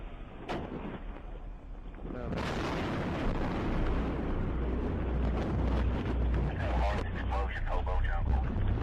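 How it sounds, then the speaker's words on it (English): A huge explosion sets off a deep, sustained roaring rumble that swells suddenly and then holds loud for several seconds, with wind-buffeted noise over it. People's voices can be heard amid the din. "we just had a huge explosion"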